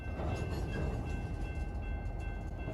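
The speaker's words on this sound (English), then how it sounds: "listen to the locomotives and actually how quiet they are" Model railroad locomotives hum and rumble quietly and steadily on a layout, a soft continuous mechanical drone with faint rail noise and no talk.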